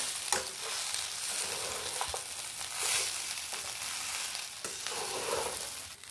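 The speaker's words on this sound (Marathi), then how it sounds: "आता याला पण व्यवस्थित मिक्स करून घेत आहे आणि सावकाश अलगद हलवून घ्यायचं आहे" Poha with cucumber and coconut is stirred slowly and gently in a hot pan, giving a steady close sizzle with soft scraping and shuffling throughout and no talking.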